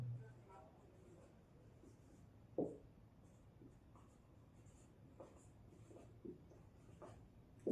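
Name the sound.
writing on paper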